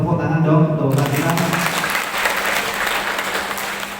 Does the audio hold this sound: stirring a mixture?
no